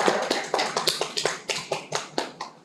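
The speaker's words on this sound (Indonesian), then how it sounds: "Beri tepuk tangan juga untuk kelompok Barista." Applause for a presenting group in a classroom microteaching session, a few people clapping at close range in a loose, uneven rhythm of about a dozen distinct claps.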